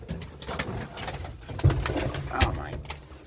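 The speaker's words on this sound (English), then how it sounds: "How the heck did that bird get stuck in the cab?" A bird trapped inside a truck cab, with soft cooing calls and fluttering scuffles close by, mixed with rustling movement and a person talking nearby.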